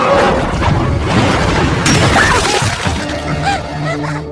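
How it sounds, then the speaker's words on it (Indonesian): A house blows up in a film scene with a loud crash and a burst of shattering debris. The din continues with scattered breaking and rumbling before it thins out near the end. "tiba-tiba rumah itu meledak bahkan ibunya tertimpa tiang listrik"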